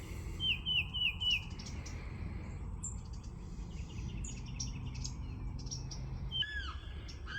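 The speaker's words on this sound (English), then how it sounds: "Sorry about that bird. That thing goes off all night long." A bird sings repeatedly outdoors at night during mating season, with bright chirps, trills and whistled phrases over a steady low background hiss. The calls are moderately loud and there is no talking.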